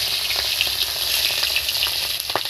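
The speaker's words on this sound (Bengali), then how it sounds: "তেল গরম হয়ে গিয়েছে, আমি কাতলা মাছের মাথা তেলের মধ্যে দিয়ে দিচ্ছি।" Catla fish head frying in hot oil, a steady dense sizzle with crackling pops throughout, close and loud, no talk.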